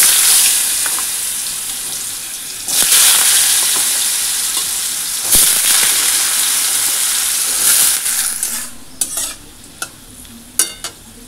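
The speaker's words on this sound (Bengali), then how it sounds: "আলুটা হালকা করে ভেজে নিয়েছি" Sliced potatoes fry in hot oil in a home kitchen pan, a loud continuous sizzle with a few sharp stirring scrapes and clinks, the hiss thinning out near the end.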